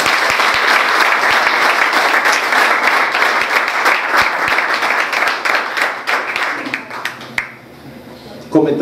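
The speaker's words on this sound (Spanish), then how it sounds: "Un fuerte aplauso porque se lo merecen." An audience applauds firefighters at a civic event honoring senior citizens, dense loud clapping that holds steady for several seconds and then thins out to scattered claps before dying away.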